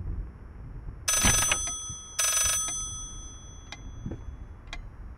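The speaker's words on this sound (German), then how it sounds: "Aber das Telefon ist nicht da und es läutet." An old telephone ringing in the horror game Layers of Fear, two bright metallic bell trills in quick succession, followed by a few faint isolated ticks in a quiet room.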